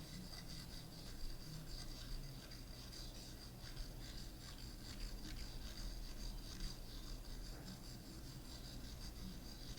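Soft, steady bristle scrubbing during a personal-care treatment, a continuous close rasping texture at low level with no talk over it.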